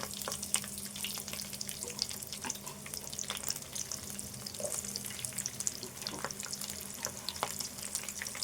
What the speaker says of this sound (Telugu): ఒక పది పచ్చిమిర్చి ఇది కూడా వేసుకొని ఇప్పుడు వేయించుకున్నాయి